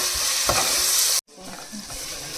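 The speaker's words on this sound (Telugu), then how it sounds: "అల్లం పేస్టు చాలా నూనెలో ఫ్రై అయితేనే బాగుంటుంది" Ginger paste fries with onion in plenty of oil, a loud close sizzle with stirring scrapes that cuts out for a moment and returns softer, no talk.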